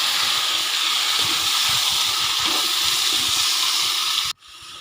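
Potatoes, chickpeas and lentil dumplings fry in a pan with a loud, steady broadband sizzle and hiss that runs unbroken before cutting off abruptly near the end.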